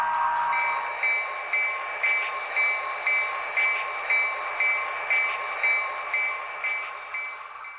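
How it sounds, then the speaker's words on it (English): A Soo Line model railroad train rounds a curve at a layout junction, its wheels clicking in a steady, evenly spaced rhythm over a constant high metallic whine, close and moderately loud with no talk. "there goes our eastbound around the curve at Cardigan Junction here"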